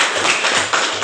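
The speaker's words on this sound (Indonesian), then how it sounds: "oke, bagus tepuk tangan ya." Students in a classroom clapping their hands together, a quick burst of close, loud claps lasting about a second.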